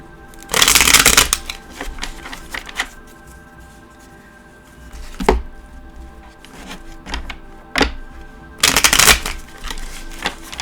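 An Osho Zen Tarot deck is shuffled close up in loud riffling bursts, with a few lighter card taps and shifts between them.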